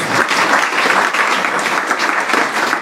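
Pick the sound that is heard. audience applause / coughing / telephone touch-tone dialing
audience applause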